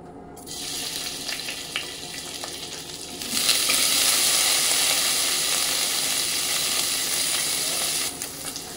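Cut paneer cubes hitting hot oil in a pan, giving a steady broadband sizzle that jumps louder a few seconds in and then holds as a dense, continuous frying hiss with no talking.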